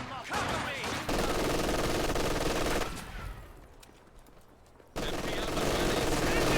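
Sustained automatic machine gun fire from MG42 positions in a Company of Heroes match, loud rapid bursts that drop to a quieter lull midway before resuming at full intensity, with a voice talking over parts of it.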